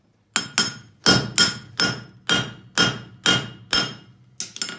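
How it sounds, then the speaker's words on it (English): A blacksmith's hammer strikes a concave front horseshoe on an anvil while drawing a clip, about ten sharp ringing blows in a steady rhythm with short decays, close and loud, with no talking. "I'm going to drive in with the flat of my hammer"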